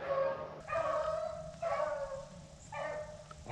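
Hunting dogs baying in the distance while trailing rabbits, a few drawn-out howling bays rising and fading in bursts, faint and far off with no talk.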